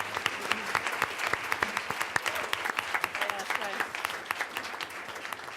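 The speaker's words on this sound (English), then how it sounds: "Let's give them another round of applause." Applause from an audience at a school board meeting, a steady patter of many hands clapping at moderate volume for several seconds, with some talk underneath.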